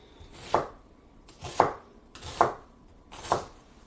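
A knife chops onions for potato leek soup with four steady, close thuds on a cutting board, evenly spaced about a second apart, with no talking.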